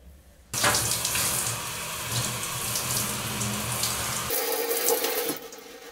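A tap runs steadily into a sink while afro hair is rinsed: a loud, continuous splashing rush that starts abruptly and changes tone near the end as the flow shifts.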